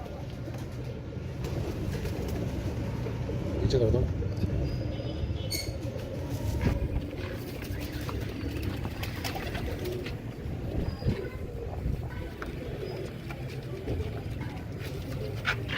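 Pigeons coo softly in their coops, their low murmuring mixed with background rumble and a short spoken phrase from a nearby person.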